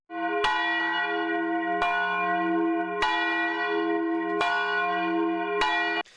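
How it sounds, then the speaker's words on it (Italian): A church bell tolls five slow, evenly spaced strokes at a Vajont disaster memorial, each ringing out with a long, rich hum that sustains between strikes. "il rintocco delle campane alle 22:39 esatte"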